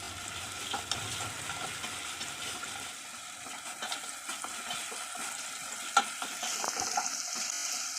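Onion frying in a pan gives off a steady, fairly quiet sizzle, broken by scattered small crackles and a sharper pop near the end, close by with no talking.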